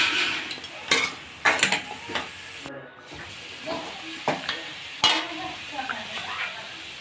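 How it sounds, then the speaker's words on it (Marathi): A metal spatula stirs ridge gourd with chilli and turmeric in a pan for a stuffed ridge gourd dish, giving sharp clanks and scrapes at irregular intervals over a soft, low sizzle, heard up close. "मिरची हळद टाकून अशा प्रकारे दोडके टाकून फिरवत राहायचं आहे"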